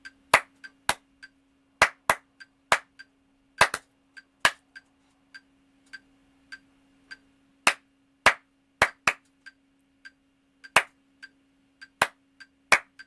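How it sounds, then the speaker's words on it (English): A single person claps out a syncopated rhythm, mostly off the beat, with sharp, close, isolated claps separated by silence and a faint steady hum underneath. "So I'm going to try to clap this rhythm."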